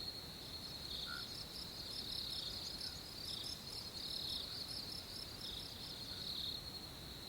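Crickets sing in a jungle, a continuous high pulsing trill repeating in rapid bursts over a faint background hiss, steady and fairly quiet, with no voices.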